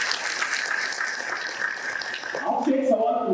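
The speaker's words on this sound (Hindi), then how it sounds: "ताली बजाओ," An audience at a district-level tribal awareness program in Deori, Gondia applauds, a dense steady patter of clapping that gives way to a voice speaking at the end.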